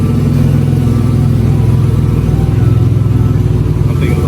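A Toyota GR Corolla engine with a Megan Racing exhaust fitted and no muffler, idling and revving up close: a loud, steady, raspy drone with a slight rise in pitch, and no voices.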